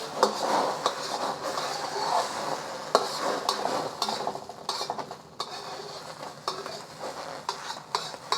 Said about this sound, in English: I'm just gonna cook the eggs until they're mostly done.